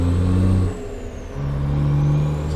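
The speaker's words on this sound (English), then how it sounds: "So this engine has 400 horsepower and 1250 foot-pounds of torque, and it needs revs" A big-cam truck engine rated at 400 horsepower, hauling live cattle in American Truck Simulator, drones with a steady low hum, dips briefly as the gear changes, then climbs back into a sustained rev.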